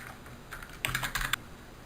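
Quick burst of keystrokes on a computer keyboard, a handful of clicks clustered together, close and fairly quiet over a faint room hum.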